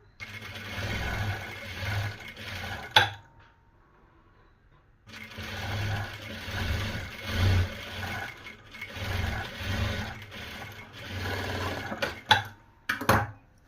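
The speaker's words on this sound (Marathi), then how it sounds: "तर अशी शिलाई मारून घ्यायची." A sewing machine stitches the lining onto a designer blouse sleeve, running in steady close-up bursts with a short pause partway through and a few clicks near the end.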